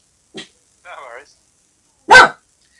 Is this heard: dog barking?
yes